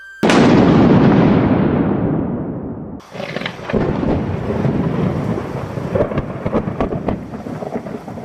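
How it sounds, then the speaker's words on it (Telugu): A storm's thunder bursts with a loud crack, then rolls off into a long fading rumble before another wave of rumbling thunder and rain-like crackle follows, fairly close and filling the whole clip. "ఫెళ ఉరుములు వినిపించాయి"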